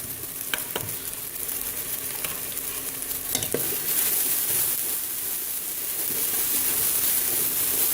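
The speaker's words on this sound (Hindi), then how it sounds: "जैसे ही मसाला घी छोड़ेगा हम इसके अंदर सब्जी डालकर इसको भून लेंगे" Spice masala with turmeric, chilli and dried coriander fries in ghee, keeping up a loud, steady close-up sizzle with a few sharp clinks of stirring, and no voices over it.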